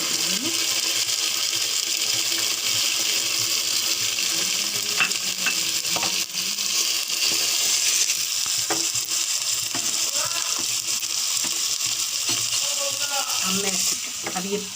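Chopped onions fry in oil with ginger garlic paste for keema, a constant bright sizzle with scattered scraping and clinking of a spatula stirring in the pan, steady and close throughout.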